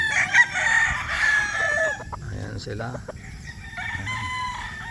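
Roosters crow loudly near the start, with more crowing and clucking fowl continuing behind someone speaking briefly.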